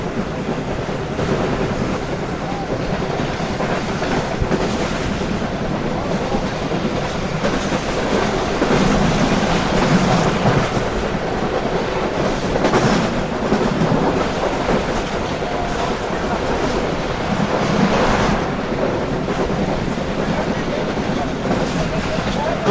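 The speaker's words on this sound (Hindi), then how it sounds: "ट्रेन हमारी कुछ इस तरह की स्पीड में स्किप करने जा रही है कावेरी रेलवे स्टेशन को" The Karakoram Express runs at speed in winter, heard from inside an economy-class carriage as a steady, loud rumble with continuous rhythmic clatter of wheels over rail joints, with faint voices underneath.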